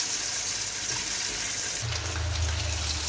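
Eggs sizzle steadily in a hot pan, a loud continuous frying hiss throughout, joined partway by a low rumbling hum underneath.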